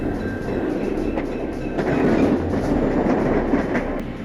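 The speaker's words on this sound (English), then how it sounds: "Train 91, the southbound SCL champion, approaches Haines City." The southbound SCL Champion passenger train rolls closer at Haines City, Florida, with a steady low rumble and clacking wheels, growing slightly louder toward the middle and staying loud to the end.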